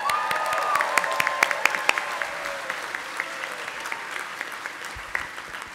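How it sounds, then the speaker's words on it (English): Clapping from the audience at a Colorado State University DVM hooding ceremony, spring 2023: a broad, even round of applause from a large hall, with a few sharp individual claps standing out and the sound gradually thinning. "Okay, now we should clap"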